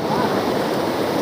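A swollen mountain river rushes in a steady, loud roar of churning water, continuous and close with no pauses.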